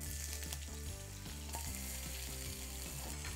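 Red onion sizzles in hot olive oil in a pan, a steady crackling fry that continues throughout as the base for a winter hash, heard close up with a busy background and nobody speaking.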